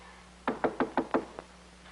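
Six sharp knocks on a door in a 1950s sitcom scene: five quick, evenly spaced raps followed by a softer sixth. The knocking is close and clear, with no talk over it.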